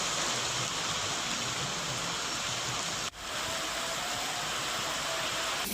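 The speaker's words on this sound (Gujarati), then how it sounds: "લીલિયા શહેરમાં મુશળધાર વરસાદ ખાબક્યો" A heavy monsoon downpour in Saurashtra, Gujarat, makes a loud, unbroken roar of rain that dips for a moment near the middle before carrying on steadily.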